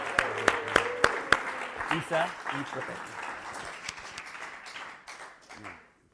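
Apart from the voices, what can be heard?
audience applause at story slam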